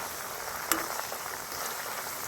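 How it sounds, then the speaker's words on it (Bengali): Fenugreek, neem leaves, aloe vera and bay leaves frying in oil for a homemade herbal hair oil, a steady soft sizzle with one brief sharp crackle near the start. "এবার দেখুন আমি ভেজে নিচ্ছি মেথি নিম পাতা অ্যালোভেরা তেজপাতা"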